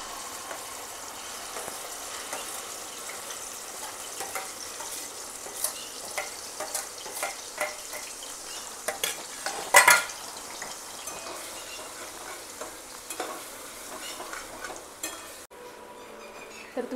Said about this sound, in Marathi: तेल गरम झाले, आता त्याच्यामध्ये हे वाटण टाकून घ्यायचं।